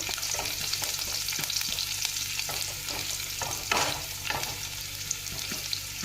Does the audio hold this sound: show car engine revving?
no